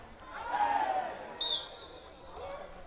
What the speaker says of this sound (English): a big appeal from the crowd for dangerous play